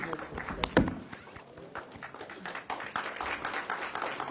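Applause rises for India's Minister of Commerce Piyush Goyal at a GI Samagam event: scattered, uneven clapping from a crowd, fairly soft and mid-distance, swelling slightly toward the end, with a voice talking briefly near the start.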